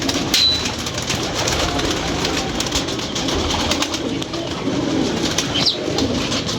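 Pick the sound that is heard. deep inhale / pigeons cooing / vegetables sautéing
pigeons cooing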